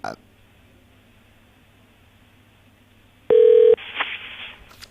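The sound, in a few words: telephone call dialing and ringing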